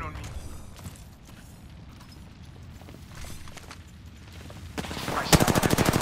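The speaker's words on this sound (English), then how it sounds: "They're firing on me." Enemy gunfire in a video game: scattered distant shots early, then a loud rapid burst of close automatic fire toward the end, with voices talking underneath.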